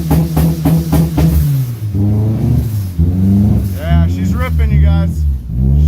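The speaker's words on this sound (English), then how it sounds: "Let's start her up here and check her out." A turbocharged Honda D16Z6 engine starts up for the first time and revs loudly close by, the pitch climbing and dropping through a few throttle blips, while someone speaks excitedly over it.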